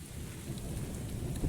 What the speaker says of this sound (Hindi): पानी बरसने लगा, भीग जाएंगे।